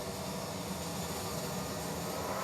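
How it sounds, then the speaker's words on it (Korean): In an open-world video game, a train rumbles past overhead while the listener waits under an overpass, a broad, steady roar played back through an LG SC9S soundbar, with no voices. "이 열차가 지나갈 때 과연 이게 얼마나 입체적으로 나한테 들려올까 이게 궁금했거든요"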